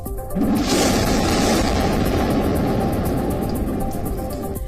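A heavy blast from missile strikes in Gaza booms out, then a loud, sustained rumbling roar follows and slowly tapers, with no voices present.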